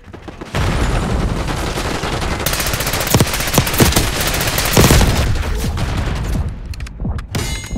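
Rapid automatic gunfire and bursts of shots from a Call of Duty Black Ops 6 multiplayer match, dense and loud for several seconds with sharp individual cracks and rattling volleys, no talk.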